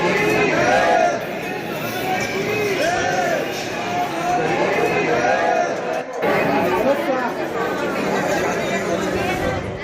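A dense crowd of devotees murmurs and chatters continuously at the Khatu Shyam temple in Rajasthan, many overlapping voices forming a steady, loud babble throughout.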